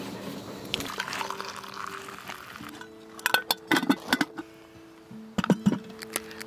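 Hot water for morning coffee poured inside a camper van in the Wyoming backcountry, a steady trickle followed by a run of sharp clinks and splashy bursts, close and fairly quiet with no talk.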